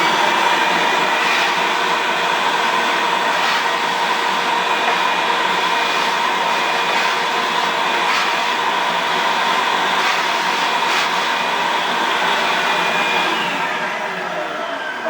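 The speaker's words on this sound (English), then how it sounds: "I'm going to get my vacuum here and just vacuum this up right" A vacuum cleaner whines continuously at close range, vacuuming dust on stairs, a steady high-pitched motor roar that holds for the whole stretch and eases slightly at the end.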